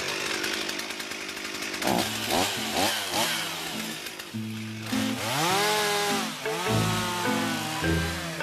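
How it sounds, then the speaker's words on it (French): A lumberjack's chainsaw cuts wood logs in a French forest, a loud, close engine whine that rises and falls in pitch as the throttle revs and the chain bites, with no talking. "et le balai de la tronçonneuse peut commencer."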